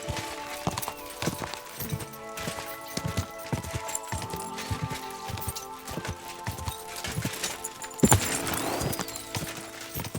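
A horse gallops in Kingdom Come: Deliverance II, hooves thudding in a quick, steady rhythm, with a louder rush of movement near the end.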